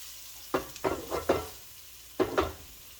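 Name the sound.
potatoes stirred with a spatula in a pan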